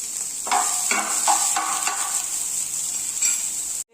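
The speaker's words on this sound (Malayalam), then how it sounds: "എന്നിട്ട് ഇനി ഇതിലേക്ക് നമ്മൾ കട്ട് ചെയ്ത് വെച്ചിരിക്കുന്ന സവാള ഒന്ന് ഇട്ട് കൊടുത്തൊന്ന് വഴറ്റിയെടുക്കാം." Sliced onions sautéed with dried chillies and curry leaves in a pan, heard as a steady sizzle with several scraping stirs of a spoon, close and moderately loud, no talking.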